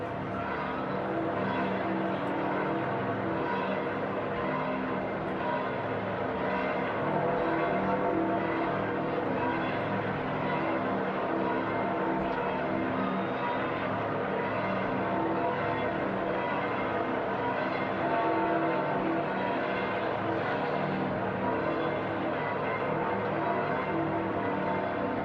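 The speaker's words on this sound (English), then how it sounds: "listen to the bells ringing" Church bells peal over St. Peter's Square, a steady continuous wash of ringing that holds at an even loudness throughout, blended with a broad murmur of crowd ambience.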